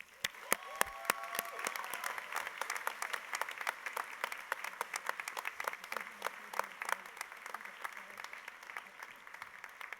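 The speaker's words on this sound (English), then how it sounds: "Please join us in congratulating Elizabeth with a round of applause." An audience at a university honors convocation claps in sustained applause, a steady crowd of hands filling the hall for the full stretch, moderately distant.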